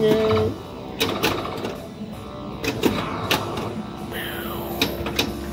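A classic Flash Gordon pinball machine gives busy mechanical clatter with electronic beeps and tones, sharp clicks and knocks scattered throughout, fairly close and continuous.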